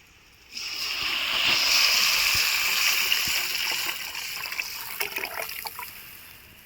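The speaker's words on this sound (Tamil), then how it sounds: "இப்போ மிளகாத்தூள் புளி தண்ணியெலாம் ஊற்றிடலாம்பா." Tamarind water mixed with chili powder poured into a pan of fish curry base with curry leaves, a steady liquid splash and trickle starting after a brief pause, close and fairly loud, tapering into lighter drips and sizzles.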